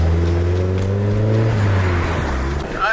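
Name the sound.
Nissan 300ZX tire rubbing and smoking while driving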